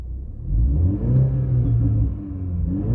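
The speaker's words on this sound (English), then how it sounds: "In sports mode, you get the nice crackling and things like that out of the car" A BMW 330i engine in sport mode idles and blips with a steady low rumble and a couple of revs, close and alone, with no talk.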